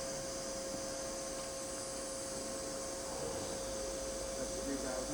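A Milltronics vertical machining center's BT40 spindle spins with a steady high-pitched whine and a constant tonal hum, holding a smooth, even pitch at close range.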